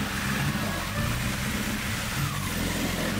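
Honda CBR1000 motorcycle engine revving on beach sand, a steady mid-pitched roar with slight surges, close and fairly loud.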